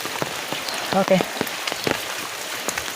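Light rain falls in scattered drops tapping on surfaces, irregular close ticks over a quiet background, while a person speaks briefly.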